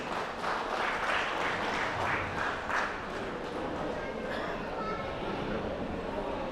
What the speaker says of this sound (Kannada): ಅವರಿಗೆ ಒಂದು ಚಪ್ಪಾಳೆ ಹಾಕಿ.